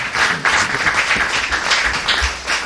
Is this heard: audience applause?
yes